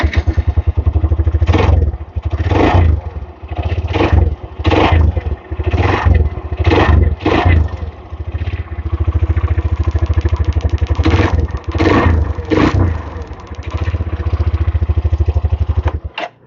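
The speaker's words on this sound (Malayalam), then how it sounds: "വണ്ടി ഒന്ന് ഓണാക്കിയിട്ട് വണ്ടിയുടെ സൗണ്ട് നോക്കാം" A Hero Xtreme 125 R motorcycle's 125 cc engine runs close by, with repeated sharp throttle blips rising and falling over a steady idle, loud and unaccompanied.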